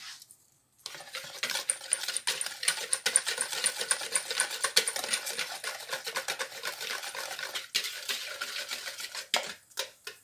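Batter for cauliflower fritters whisked briskly in a bowl, a rapid steady clatter of utensil against the bowl sides running nearly the whole time, close and alone.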